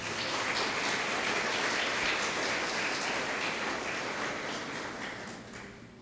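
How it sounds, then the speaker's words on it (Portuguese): A church congregation claps together in sustained applause, a dense, even wash of hands that tapers slightly toward the end. "Você pode aplaudir o Senhor?"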